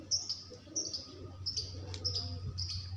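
Several sharp, high calls come in a loose repeating rhythm from pet pigeons in a sick pen, birds being treated for colds, coughs and worms. A low background hum runs underneath throughout.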